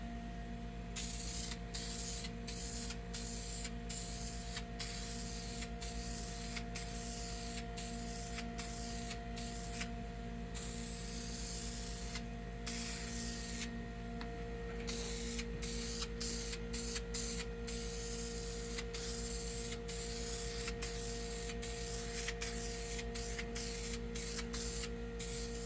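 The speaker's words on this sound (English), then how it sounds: "Let's try some self-etching primer on this." Self-etching primer sprays from an aerosol can onto a polished metal part in repeated short hissing bursts with brief gaps, over a steady low background hum.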